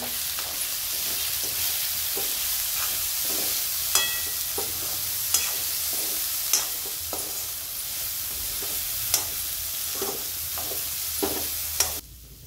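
Masala with salt and soaked moong dal being stirred and sautéed in a pan for a Marathi hadga flower bhaji: a steady close sizzle with rhythmic scraping strokes of the spoon, regular knocks against the pan roughly every second.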